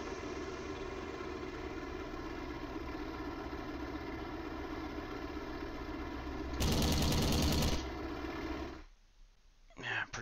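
Video game air combat against a Hurricane plane: a steady droning aircraft engine runs throughout, broken by a loud, rapid burst of machine gun fire lasting about a second before the sound drops away.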